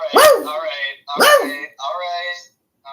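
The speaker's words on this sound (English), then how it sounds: "Does she bark like a dog?" A dog gives three loud barks in quick succession, close and clear, with a short pause after them. The setting is a live audio podcast with people talking.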